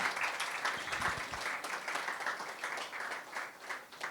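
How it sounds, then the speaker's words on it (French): Applause during an International Women's Day webinar honouring women leaders in logistics and industry, a faint, even wash of clapping that carries on steadily throughout. "je voudrais déjà qu'on puisse les applaudir"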